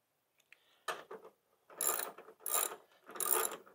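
A ratchet wrench tightens the 14 mm bolts on front coilovers, with a few faint clicks and then three loud, close bursts of rapid ratcheting, separated by short pauses.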